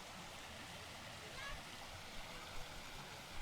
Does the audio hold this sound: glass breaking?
no